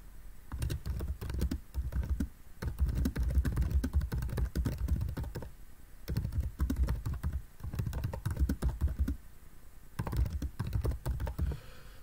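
Someone types on a computer keyboard while writing an academic paper with references, producing rapid close bursts of key clicks that pause briefly and then resume, with no voices.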